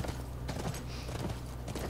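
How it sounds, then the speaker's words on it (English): Horse hooves clip-clopping in The Last of Us, a steady run of quick, muffled hoofbeats at close range under a low game ambience, with no voices. "That's our horse."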